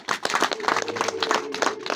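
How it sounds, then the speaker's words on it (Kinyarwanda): A crowd claps and applauds at a public gathering in Nyamagabe, Rwanda, a steady wash of hand claps running close and fairly loud through the whole stretch. "Nimwongere amashyi abantu."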